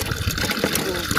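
Water gushing from a hand pump at a village in the Cholistan desert, a loud, steady rushing and splashing flow with slight surges throughout.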